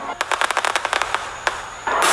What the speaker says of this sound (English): The highlight of the night was the fireworks that everyone waited a year to see.